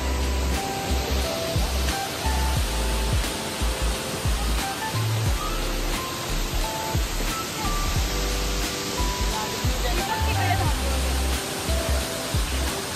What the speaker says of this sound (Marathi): तुम्ही बघू शकता बघा तिथे धबधबा